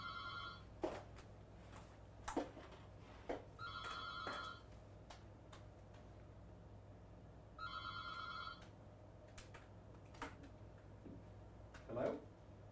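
An office telephone rings in repeated short electronic bursts, fairly faint and spaced several seconds apart, over a steady low hum with occasional clicks and knocks in a quiet room.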